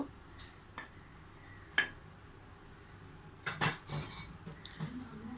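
Sugar, baking soda and salt are tipped together into a bowl, giving faint scattered clinks and a brief cluster of louder scraping, tapping utensil sounds near the end against a quiet room.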